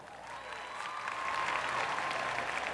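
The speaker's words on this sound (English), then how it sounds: "Girls, give the guys a clap." A room full of girls claps steadily for the guys at a formal event, a sustained even patter of many hands at moderate volume, with faint murmuring underneath.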